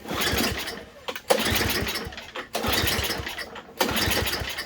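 A small snowblower engine repeatedly sputters and churns as it is cranked, surging in bursts with brief pauses but never catching into a steady idle.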